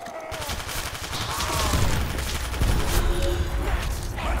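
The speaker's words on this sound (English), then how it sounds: "All you hear is the rat-a-tat-tat of my gun lighting your ass up." Rapid gunfire in a custom zombies video game, a steady rattle of automatic shots that runs throughout over dense game noise, loud and close.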